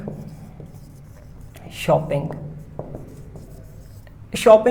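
A marker writes on a board in short squeaky strokes, faint and intermittent, while someone talks over it in a quiet room.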